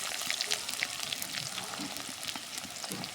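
Chopped onion fries in hot oil with a steady, moderate sizzle and crackle, stirred now and then, close and without talk.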